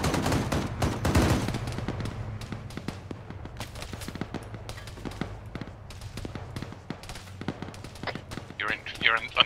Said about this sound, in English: You're in under fire, guns.